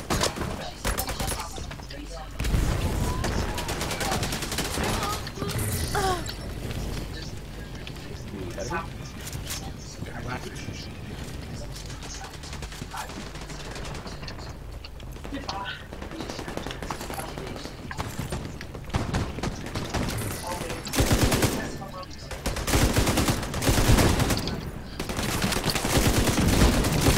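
Turret gunfire in The Division 2 rattling in continuous dense volleys, mixed with other game noise and running sounds for the whole stretch.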